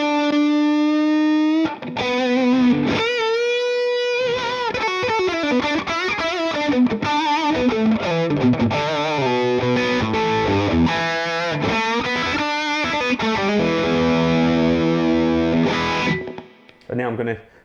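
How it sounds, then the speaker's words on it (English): An electric guitar runs through an Ibanez NTS Nu Tubescreamer overdrive pedal set for a bit of extra drive, playing a held note, then chords and a flowing solo line, loud and close with no talking. "And now just with a little bit of extra drive for solos and stuff."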